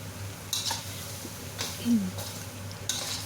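Spicy Chinese-style tiger prawns stir-fried in a wok: a low sizzle with three distinct spatula scrapes against the metal and a brief murmur of voice.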